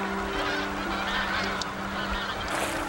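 Geese honking on the Mangyeong River in winter, a dense, noisy flock calling continuously in overlapping honks with open-air background noise.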